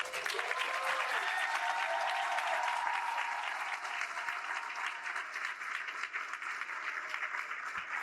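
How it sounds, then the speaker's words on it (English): Sustained round of audience applause at a YMCA Black Achievers banquet honoring graduating seniors, a large crowd clapping steadily and densely throughout, with faint cheering under it. "Everyone, please join us in a round of applause to congratulate all 71 of our"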